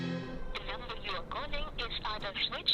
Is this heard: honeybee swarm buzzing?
no